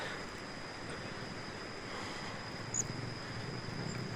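The red, swollen Kok River flows beneath a long suspension bridge with no central pillar. It makes a faint, steady rushing wash with a light wind-like hiss and no speech.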